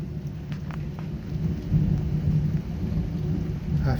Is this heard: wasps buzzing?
no